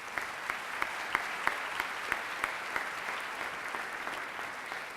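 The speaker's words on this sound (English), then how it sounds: "Let's give them a round of applause." An audience at a summer high school graduation ceremony gives sustained applause, a dense wash of clapping with a few louder individual claps at regular intervals, heard from a distance.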